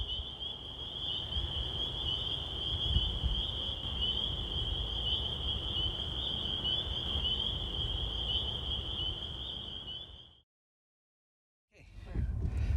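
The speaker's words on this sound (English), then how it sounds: "You hear the peep frogs." Spring peeper frogs call at night as a steady, continuous high trilling chorus that holds without pause for about ten seconds, then cuts off abruptly into near silence before faint rustling returns.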